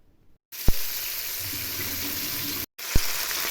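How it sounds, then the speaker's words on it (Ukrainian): Floured chunks of meat sizzle steadily in a hot frying pan, a constant crackling hiss up close, broken by a couple of sharp clicks and a brief gap. "обжарюємо наше м'ясо і перекладаємо його в кастрюльку"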